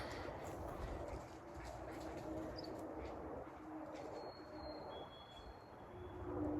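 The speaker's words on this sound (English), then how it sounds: "You can hear the birds. They sound amazing" Faint birdsong in a forest, with a few thin high chirps and whistles drifting over a low, continuous outdoor rumble, heard from some distance.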